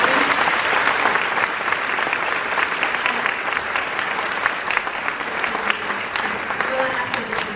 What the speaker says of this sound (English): give them a round of applause and thank them for their time